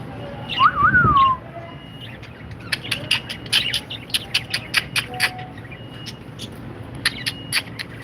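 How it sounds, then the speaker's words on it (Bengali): Many small birds chirp in quick, sharp bursts, close and irregular, after a brief louder sound at the start. "এইগুলি দেখেন ছোট পাখিগুলি এগুলিরও ভুট্টা দিয়ে রাখছে"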